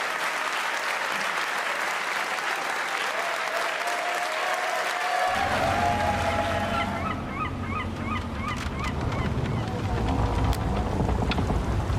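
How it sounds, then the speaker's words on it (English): An esports crowd at an Age of Empires tournament final applauds loudly for the champion, a continuous wash of clapping and cheering joined by a heavy low rumble partway through. "a big round of applause and congratulations for our champion today"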